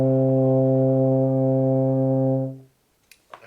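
A euphonium sustains a single low C, steady and loud for about two and a half seconds before it stops, followed by a quiet pause and a couple of small knocks.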